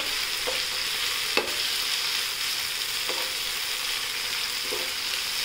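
Tomatoes sauté in hot oil with a continuous close sizzle, broken by a few spoon scrapes and taps as they are stirred, and no one speaks.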